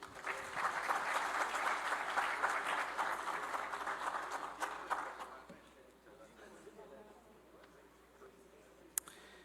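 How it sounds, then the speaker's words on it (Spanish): Strong applause from a symposium audience sending off a departing speaker, dense clapping for about five seconds that fades into a quiet room with a faint murmur and one sharp tap near the end. "Los despedimos otra vez con un fuerte aplauso."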